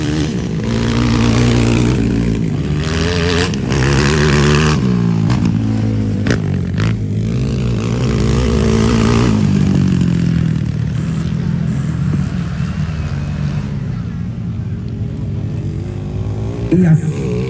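Enduro motorcycles race at a local barangay anniversary event, engines droning and revving continuously nearby with passing bikes, while an announcer's voice talks over the noise.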